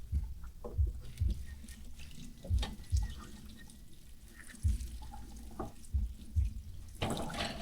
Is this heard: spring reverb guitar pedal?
no